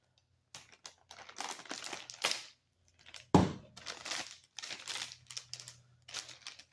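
Plastic packaging around a Gorilla Whip flag pole for a four-wheeler is cut and torn open up close, with crinkly rustling bursts, short pauses and one sharp crack near the middle.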